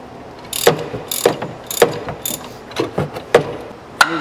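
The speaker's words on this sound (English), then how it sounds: "Tighten this till the clutch pops." A ratchet tightens the clutch on a 2011 Polaris RZR during a wide-ratio clutch kit install, giving a close, crisp run of about eight rhythmic clicking bursts with no talking.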